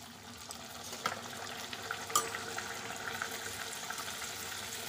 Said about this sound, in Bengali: তেল গরম হয়ে গেছে, এখন কচুরিগুলো ছেড়ে দিচ্ছি।